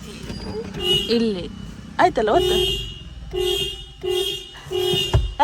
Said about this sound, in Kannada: ಟ್ರೈ ಮಾಡು ಪಿಂಪಿ ಹಾರನ್ ಮಾಡು